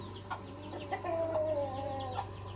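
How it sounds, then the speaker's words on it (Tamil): A hen that has recently begun laying eggs gives a few soft clucks and one drawn-out, wavering call, close by over a steady low hum. "இது முட்டை போட ஆரம்பிச்சிருச்சு இந்த கோழி."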